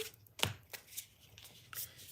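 Tarot or playing cards being shuffled by hand during a livestream, a series of quick papery riffles and slaps in uneven bursts, close and moderately loud with no talking.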